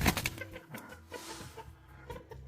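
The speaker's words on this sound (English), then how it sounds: "Let's wake up the roosters a bit here around the tent." Roosters and hens crowing and clucking around a tent at a desert campsite, fairly faint, with irregular calls over a low background.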